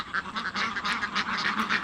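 A flock of ducks on a farm of about two hundred laying ducks quacks loudly and continuously, many overlapping nasal calls close by, with no talking.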